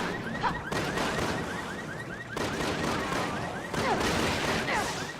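Dual pistols firing at multiple enemies in the video game Resident Evil 6, rapid repeated shots in clustered bursts amid chaotic combat noise and a voice talking over it.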